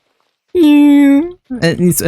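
A person's voice imitates a cat snoring, giving one long, loud nasal drone followed by a short burst of choppy, snore-like sounds, close to the microphone.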